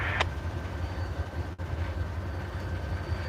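Switcher locomotive number 750 moving through a rail yard, a steady low rumble with faint rail noise, alone and without voices, at moderate distance.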